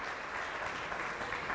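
Audience applause for a guest speaker at a day conference session, a steady dense wash of clapping held at even loudness throughout, with no talk over it.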